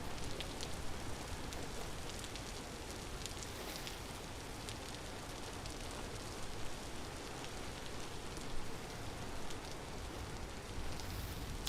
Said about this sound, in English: Unfortunately, you don't hear as well when it's raining.